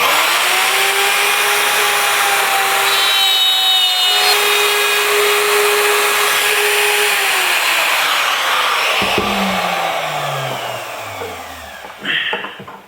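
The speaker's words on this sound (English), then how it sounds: "and route that out" A wood router cutting an oval recess into a wooden part for a woodworking vise, whining loudly and steadily up close as it cuts, then spinning down with a falling tone before a brief clatter.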